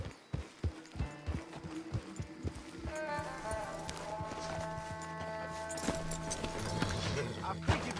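Horses walk on a road in a Western setting, their hooves clip-clopping in a close, even rhythm that fades under a sustained tonal background, with a voice speaking partway through.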